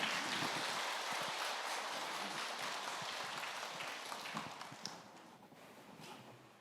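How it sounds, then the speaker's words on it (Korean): A church congregation applauds after a Sunday service prayer, a dense, steady wash of many hands clapping that holds loudly and then slowly fades toward the end. "박수 한번 크게 해주시죠."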